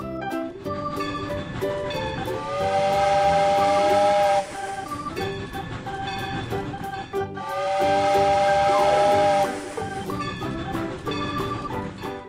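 Steam train whistle blowing in two long, loud sustained blasts with hissing steam and rail rumble running underneath throughout.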